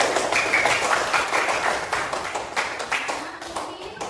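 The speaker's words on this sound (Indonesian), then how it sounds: "Oke, tepuk tangan anak-anak." Children clap their hands together in an Islamic religious education classroom, a lively ragged burst that gradually thins out, with voices heard over it.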